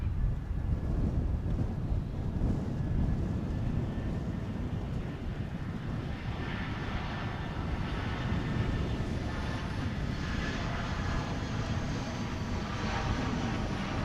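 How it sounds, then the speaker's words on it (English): An American Airlines jet arriving from Monterrey, Mexico, on approach at Dallas/Fort Worth Airport, a steady broad engine roar heard from outside over heavy wind buffeting on the microphone, with a thin whine rising partway through. "to come on down is American Flight 1673 from Monterrey in Mexico."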